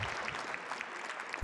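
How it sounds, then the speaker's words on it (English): Faint, steady applause from an audience at a 2017 esports championship match, a short burst of clapping with no talk over it. "A round of applause for Orange, who's able to survive and take down Hoej, the spring champion"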